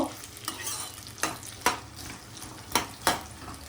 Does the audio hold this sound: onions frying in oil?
yes